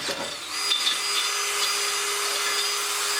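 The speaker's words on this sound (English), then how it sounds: "let's go ahead and drill a hole on the side." A steady, high-pitched drill whine runs without a break, close and loud, as the bit bores into material.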